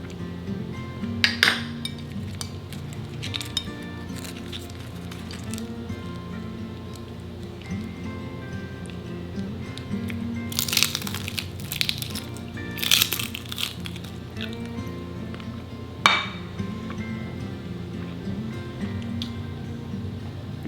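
Bites into a broken crunchy fried taco topped with home-canned salsa and sour cream give a few sharp, close crunches in scattered bursts, with light clinks of dishes between them in a quiet room.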